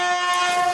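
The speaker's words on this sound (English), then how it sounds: "I fell down, but it was on purpose because train is coming" A train sounds a brief, loud multi-tone horn blast as it approaches, heard outdoors at a short distance.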